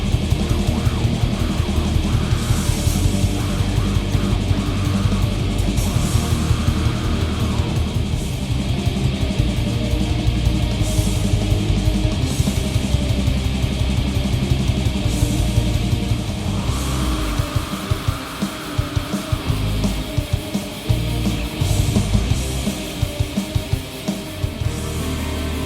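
Dense, loud black metal recording with a wall of distorted guitars and relentless pounding drums throughout, the texture thinning into choppier, rhythmic bursts toward the end.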